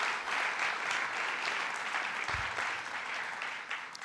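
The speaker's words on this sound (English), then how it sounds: "Let's give him a round of applause, Commissioner Matt Driscoll." An audience applauds a county commissioner at a public event for a $130M Nassau Expressway reconstruction project, steady clapping from a crowd that runs throughout at moderate distance and holds even.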